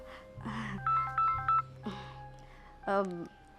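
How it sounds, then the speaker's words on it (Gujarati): A mobile phone rings with a stepped electronic melody of bright, beeping tones, close and clear between bursts of people talking. "તારો ફોન વાગે છે"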